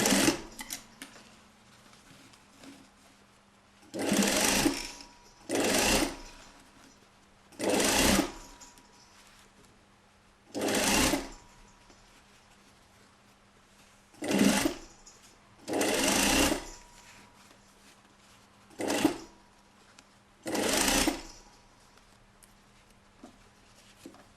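A sewing machine sews a one-centimetre seam on a basque corset from a kit, running in about nine short, sharp bursts separated by quiet gaps, near and clear.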